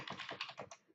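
Keystrokes on a computer keyboard while entering data into an Excel spreadsheet, a quick run of close, crisp clicks for about a second, with no voices.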